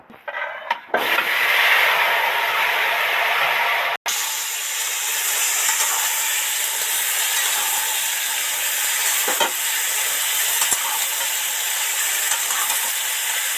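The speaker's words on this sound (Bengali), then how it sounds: "এবার এই সবজিগুলো ওই তেলের মধ্যে দিয়ে দেব।" Vegetables hit hot oil already fried with chillies and bay leaves for Bengali shukto, setting off a loud burst of sizzling that settles into a steady hiss with an occasional stir or scrape.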